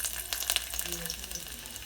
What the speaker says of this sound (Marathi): तर आता मी टोपामध्ये थोडंसं तेल घेतलं आहे, त्याच्यामध्ये आपण थोडंसं लसूण टाकूया.